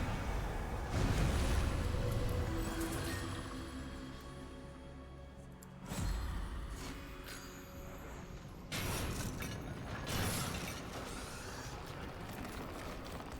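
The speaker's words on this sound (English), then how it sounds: "Why do I hear spiders?" Skittering, creaking mechanical clicks from spiders in the video game Warframe, set on Duviri, run as a steady dense bed with louder surges every few seconds and no talking.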